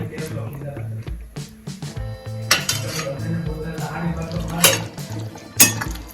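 Thick Kathiyawadi drumstick kadhi being stirred in a metal pot, a spoon scraping and clinking against the sides in repeated close strokes, while someone talks over the kitchen sounds.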